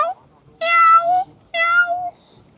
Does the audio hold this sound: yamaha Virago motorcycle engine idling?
no